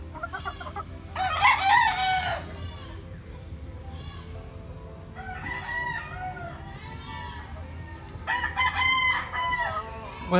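Gamefowl at a game farm in Montalban, Rizal: several roosters crowing at moderate distance in repeated bursts, with scattered clucking and steady farm ambience between calls.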